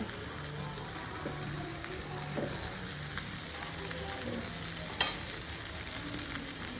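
Boiled cocola noodles are stirred and fried with spices in a pan, making a continuous low sizzle with occasional soft scrapes and one sharper clack, close and quiet, with no speech.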